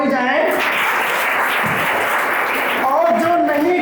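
Audience applause in a school hall at an inter college assembly, a dense sustained burst of clapping that holds loud for about three seconds, with voices heard at the start and as it fades.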